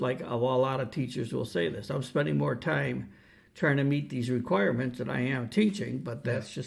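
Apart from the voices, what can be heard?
No distinct noise like a dog, phone or traffic.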